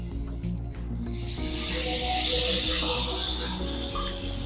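A quarter teaspoon of butter sizzles in a hot pan while tomato soup is being made, a steady close hiss that starts after some brief clatter and continues throughout.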